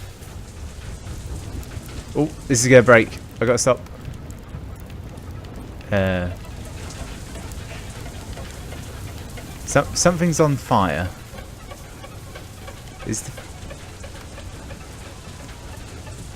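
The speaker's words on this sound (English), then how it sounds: "This hail is doing a number on my systems" A hail and rain storm in the video game FAR: Lone Sails gives a steady, dense patter throughout, while someone talks in short bursts over it.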